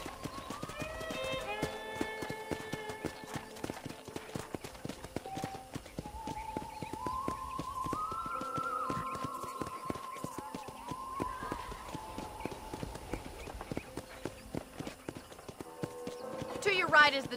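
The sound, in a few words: horse hooves clip-clopping, from video game Red Dead Redemption 2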